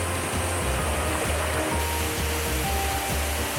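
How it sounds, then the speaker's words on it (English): A large waterfall in Taiwan roars steadily and loudly, a dense continuous rush of falling water close by, with no voices. "Now that is a big ass waterfall!"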